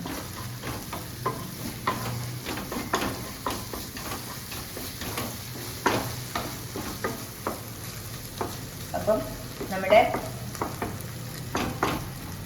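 Mushroom masala sizzles steadily in a pan while a spoon stirs and scrapes through it in repeated soft strokes, close and fairly quiet.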